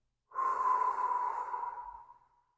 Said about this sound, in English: Hold the breath, swallow, and then exhale from your mouth.